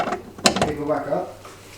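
A Torx driver ratchets and clicks as T30 Torx bolts are undone on the bumper of a 2024 Ski-Doo Summit Gen 5 snowmobile, brief close mechanical clicks and creaks.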